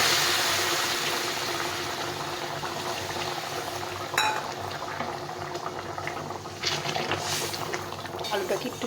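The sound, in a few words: pouring boiled hot water into cooking potato and spice curry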